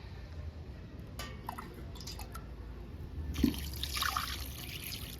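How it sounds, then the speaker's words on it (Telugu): Water poured over mutton being washed in a kitchen, with quiet drips and trickles at first, then a louder splashing pour near the end. Faint and close. "2-3 సార్లు మంచిగా కడగాలండి."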